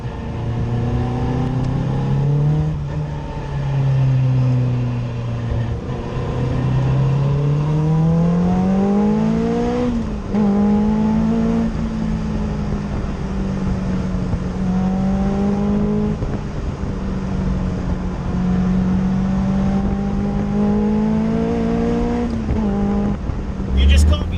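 A Caterham 420R sports car engine revs loudly and continuously, its pitch climbing and dropping repeatedly as the throttle changes, heard from close by.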